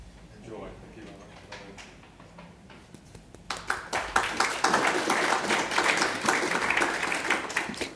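Conference audience at the University of Adelaide breaking into applause, starting faint and sparse then swelling into dense, sustained clapping from a full room for several seconds.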